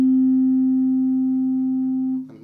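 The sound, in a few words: tuning fork ringing, one with a weight attached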